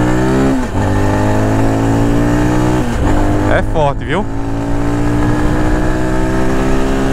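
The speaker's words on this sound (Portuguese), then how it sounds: "Vamos lá, primeira marcha. É uma moto bastante forte." A 2024 Shineray SHI 175 motorcycle engine revs loud and close in first gear, pitch climbing steadily, while someone speaks briefly over it.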